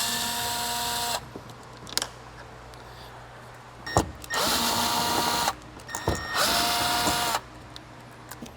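Power driver whirring in several bursts as Phillips screws are backed out of interior trim on a Toyota GR86, each run a steady high motor whine, close and loud, with short pauses and clicks between.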